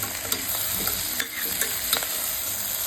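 Ginger-chili-garlic paste stirred into onions and potatoes frying in a pan, a constant close sizzle broken by a few distinct spoon scrapes and clicks against the pan.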